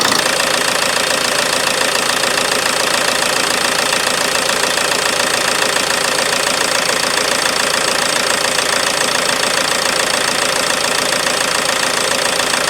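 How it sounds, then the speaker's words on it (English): A Ford Transit Connect 1.8L Duratorq TDCi diesel idles cold before warming up, a steady close knocking clatter with even rhythmic rattle throughout and no voices. "Engine is still running and it's not been yet warmed up."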